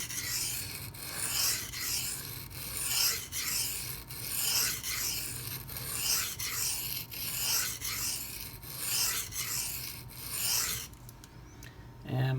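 A Microtech Socom Elite CTS-204P knife blade is drawn over a sharpening stone in steady, repeated rasping strokes, about one every second, close and alone until the strokes stop near the end.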